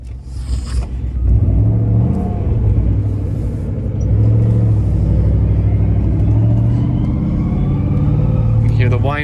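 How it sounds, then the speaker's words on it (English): A 2003 Ford Mustang Mach 1 drives in first gear, its transmission whining thinly over a steady, close engine rumble inside the cabin, with some talk mixed in. "Hear the whine from first gear because this transmission's out of the bullet"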